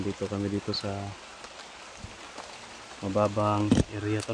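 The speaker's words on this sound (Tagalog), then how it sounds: "Naabutan na po kami ng ulan tol." Steady rain hisses softly in a low-lying outdoor area, faint in the background as someone talks over it, and is heard alone in a short pause between his phrases.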